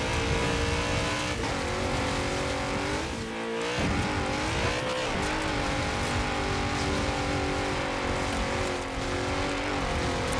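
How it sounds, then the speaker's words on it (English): A 2011 BMW X5 M engine labours uphill in the Forza Horizon 4 racing game, a loud, steady drone that rises in pitch through several upshifts, with brief dips between gears and tyre noise underneath. "See the engine struggling to pull the weight up the hill"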